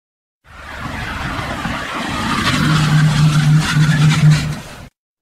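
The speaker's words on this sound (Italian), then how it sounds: "E poi ripeto la prova di frenata" A car brakes hard from 70 km/h on tires with anti-aging treatment on the fronts, with steady road and engine noise and a tonal tire squeal that rises near the end, loud and without talk.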